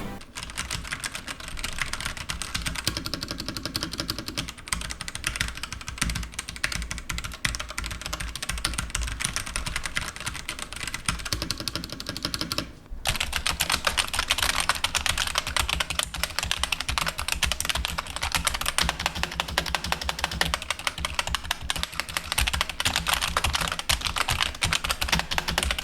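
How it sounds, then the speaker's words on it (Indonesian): Continuous rapid typing on a Rexus Daxa M71 wireless mechanical gaming keyboard with red switches, dense soft clacks close to the microphone, briefly pausing midway before resuming. "Dan kita akan tes bagaimana kualitas suara kliknya."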